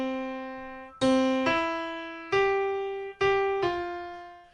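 Solo piano playing a slow eight-note phrase, E D C C E G G F, with each note struck clearly and left to ring, close and moderately loud with no voices.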